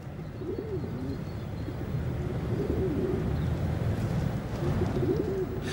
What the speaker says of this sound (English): These are pigeons.